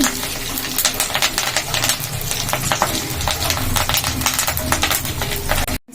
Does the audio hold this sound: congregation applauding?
no